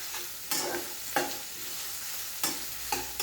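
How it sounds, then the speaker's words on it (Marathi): Onions stir-fried in oil in a pan for kanda pohe, a Maharashtrian breakfast, a soft continuous sizzle broken by several distinct stirring scrapes and clanks of a spoon against the pan. "कांदा आपल्याला त्याचा एकदम पिंक कलर होईपर्यंत परतून घ्यायचा."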